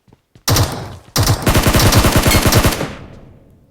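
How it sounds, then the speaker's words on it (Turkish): A computer-controlled bot fires at the player in Metro Royale, a sharp shot followed by a loud, close burst of rapid automatic gunfire lasting about two seconds that then trails off. "Burada da bir tane bot var kudurmuş gibi bana sıkıyor."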